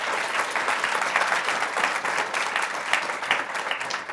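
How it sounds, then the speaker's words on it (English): Audience applause closing a deep tech innovation talk, a steady even wash of many hands clapping that carries on unbroken throughout. "let's give Margo a big round of applause"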